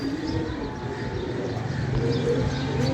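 Pigeons coo in low, soft murmurs with faint chirps over a steady outdoor background, a loft-flying setting in bad weather as birds come in to land.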